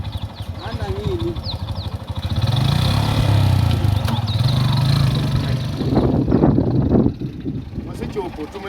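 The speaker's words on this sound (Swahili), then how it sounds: "Zima pikipiki." A motorcycle engine runs at a steady low idle nearby, its throbbing drone continuing beneath people talking, with a slight rise in intensity midway.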